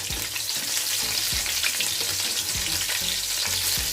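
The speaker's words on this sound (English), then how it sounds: "let's fry the bacon" Bacon frying in a pan for homemade burgers, a steady loud sizzle and crackle with soft periodic clicks of stirring or turning.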